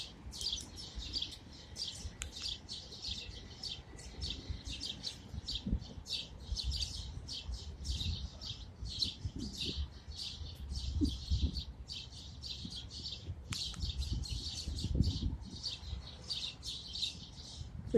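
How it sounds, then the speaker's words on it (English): A flock of birds nesting in an urban city keeps up dense, continuous high chirping and tweeting over faint low traffic rumble, moderately distant and steady throughout. "because there's a lot of birds here"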